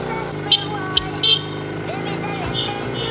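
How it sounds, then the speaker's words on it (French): Short car horn toots on a road around Chiang Mai, Thailand, sound over steady traffic and engine noise while people talk. "ça marche bien le coup du klaxon"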